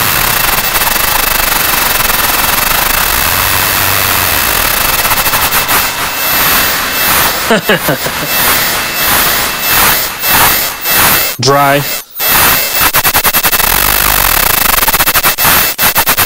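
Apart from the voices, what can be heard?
synthesized sputtering engine start noises from a noise machine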